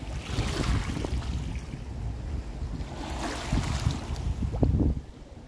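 Strong ocean waves surge and wash against the shore under steady wind buffeting the microphone, a continuous rough roar with a few heavier swells breaking close by.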